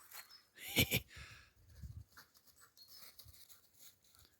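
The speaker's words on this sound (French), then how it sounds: "Les chiens, ils profitent, mais comme jamais" Dogs pant and snuffle close by, with a loud burst of breathy huffing at first, then quieter, irregular panting and rustling.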